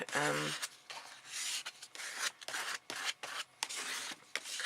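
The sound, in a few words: card scraping a thin layer of gesso on paper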